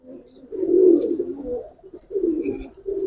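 Domestic flying pigeons coo close by in low, throaty rolling phrases, a longer call followed by two shorter ones, with no talking over them.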